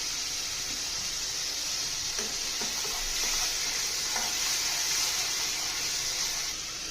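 Curry leaves and vegetables sizzle and crackle steadily in hot oil, a continuous close frying hiss with occasional stirring scrapes and pops, no voices.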